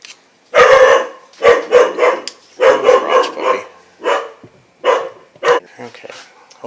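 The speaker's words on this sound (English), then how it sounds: "hopefully Garage Puppy is silent now. She's not a fan of other dogs or people" A dog kept in a garage barks near and loud in clustered bursts, about eight sharp barks with short gaps between them, and nothing else masks it.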